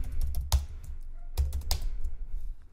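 Keys clack on a computer keyboard during data entry in a sales program, with two loud spacebar presses standing out among lighter, irregular keystrokes, close and clear.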